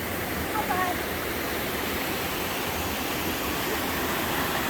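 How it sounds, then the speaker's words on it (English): A small waterfall on a trail in North Cascades National Park, heard from a bridge, gives a steady, loud, broadband rush of falling water that stays even for the whole stretch, with no talking over it. "Standing on a bridge, we got a beautiful little waterfall there."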